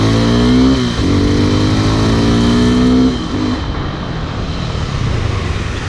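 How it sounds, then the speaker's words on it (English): Suzuki Gixxer SF 250 motorcycle accelerating hard, its engine note rising through the revs, dropping at a gear change and climbing again, then settling into steady road and wind noise. "now we'll be checking the initial acceleration"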